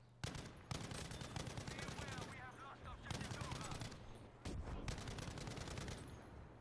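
Machine gun fire in Battlefield V, with long rapid bursts of automatic shots separated by brief gaps, sharp and loud against a busy game background with some talk underneath.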